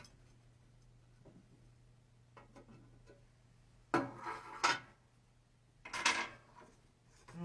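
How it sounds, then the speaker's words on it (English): A can of clear satin top coat being pried open: faint ticks and scrapes, then a couple of sharp metallic pops and clanks from the lid close by in a quiet room. "So the first thing we need to do is we're going to open up the can."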